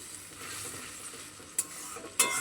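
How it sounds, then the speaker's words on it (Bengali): Spice paste of ground onion, coriander and black pepper sautéing with a splash of water in a pan, a steady sizzle broken by two sharp scraping clinks of a spoon against the pan; nobody talks. "মশলাটা কষানোর জন্য একটু জলও দিয়ে দিয়েছি।"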